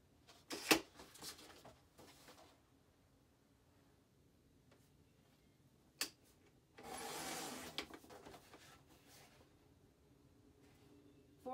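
Paper trimmed to size for a handmade card, a few quiet, scattered cuts and rubbing sounds with a longer rasping stroke partway through, soft and close, without talk.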